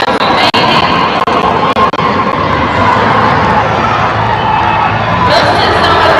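Loud crowd at a live fitness competition cheering and whooping for athletes finishing burpees and a sandbag carry, a steady dense roar of shouts with a few sharp knocks early on and the noise swelling near the end.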